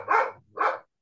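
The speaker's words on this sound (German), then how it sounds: "Ja, Rudi, so sind die Hunde halt, macht ja nichts draus. Das sind halt Tiere." A dog gives two loud, close barks in quick succession, each short and full, with a brief gap between them and quiet after.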